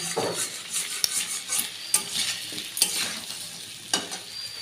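Bora fritters frying in hot oil, a steady bright sizzle broken by several sharp scrapes and clinks of a spatula stirring in the pan, close and clear with no talking.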